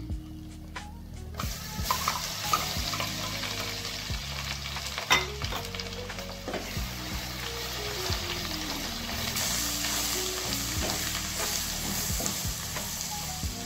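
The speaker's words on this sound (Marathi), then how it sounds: "आता ह्या मसाल्याला आपल्याला एक तेल सुटेपर्यंत परतून घ्यायचे आहे।" A ground masala paste with a spoonful of Kitchen King masala fries steadily in oil in a pan for a paneer masala, while a spoon stirs and scrapes it in irregular strokes and a low tonal background runs beneath.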